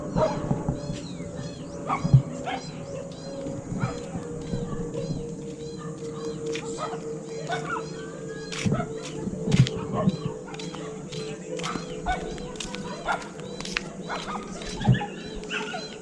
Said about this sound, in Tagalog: Kakagulo yung mga aso.